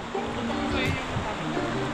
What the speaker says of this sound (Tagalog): Medyo malakas yung alon yung current ng ilog ngayon kasi nga nag-uulan the past few days.